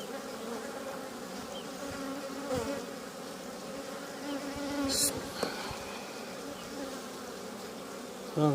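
Honeybees swarm and buzz steadily around a two-storey hive, a dense, close drone that rises and falls slightly throughout, with a few sharper flicks as individual bees pass near.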